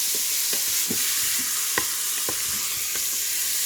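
Ground beef browns with onions in a hot pan, giving a steady loud sizzle and frying hiss, with occasional scraping stirs and pops from close by, and no talking.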